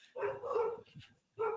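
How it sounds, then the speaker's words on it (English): Dogs bark at night behind an alleyway, two short clustered woofs followed by another bark, fairly faint and distant. "Now the dogs are barking."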